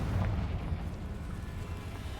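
A Confringo spell explodes in Hogwarts Legacy, a dense, rumbling blast that fills the short moment with steady noise and no voices.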